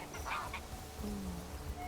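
Geese honking in the game Where Winds Meet, a few short nasal calls over a steady ambient game background, moderately close, with no talking.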